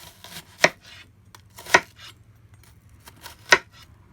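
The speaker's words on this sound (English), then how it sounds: "the one way to dice an onion is to cut along the different segments on each side" A knife dices an onion on a cutting board, giving three crisp, separate chops spaced about a second apart over quiet background noise, with no talking.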